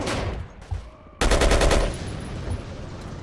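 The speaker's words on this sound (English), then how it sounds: "I'm gonna bust out my machine gun and deal out" Machine gun fire in the video game Battlefield (Yugoslavia mod): a scattered shot, then a loud, rapid close burst of automatic fire, with distant gunfire trailing after.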